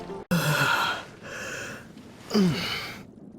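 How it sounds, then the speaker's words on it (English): A Genshin Impact character gives a long, breathy yawn that starts with a sharp intake and swells, then trails off into a voiced, falling sigh before falling silent. "Yawning without covering your mouth."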